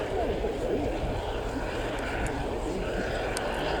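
Four Extra EA300L aerobatic planes of the Royal Jordanian Falcons come in to land at the Fairford air show, a steady loud propeller drone under continuous commentary.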